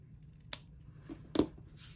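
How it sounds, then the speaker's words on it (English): Fabric scissors snipping the seam allowance on a quilt block, two or three sharp crisp cuts close by against a quiet background, with no speech. "Now let's just go ahead and trim that seam allowance down to 1/4 of an inch."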